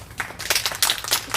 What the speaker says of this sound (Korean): 동의하시면 박수 한번 하십시오.